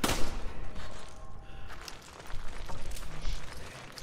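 Gunfire in the Resident Evil 5 video game, a dense burst of repeated shots running throughout the stretch with busy game effects and no talk over it.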